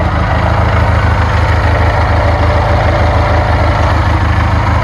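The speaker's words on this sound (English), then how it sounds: "if you ever get a chance to get a hold of a 20 horsepower Cola Magnum engine" A 20 horsepower Kohler Magnum engine idles steadily on a stump grinder built from a treadmill, its low, even mechanical thrum running loud and unbroken throughout, with no voices.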